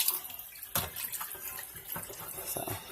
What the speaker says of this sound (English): we're going to pour that water out of there. Rinse that chicken, make sure it's clean.